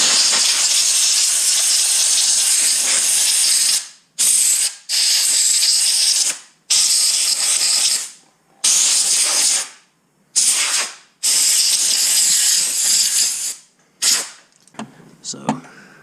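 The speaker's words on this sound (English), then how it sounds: "Get in here and spray these connectors as well." Aerosol spray can blasting electrical connectors inside a Mazdaspeed 3 dash, loud close hissing bursts of several seconds each, separated by short pauses, ending in a few quick shorter sprays.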